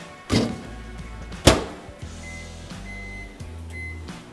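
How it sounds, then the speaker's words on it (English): A microwave oven heats an instant rice pouch in a home kitchen. Two sharp thunks from the door and buttons are followed by the steady low hum of the running oven, interrupted by short beeps. "Microwave."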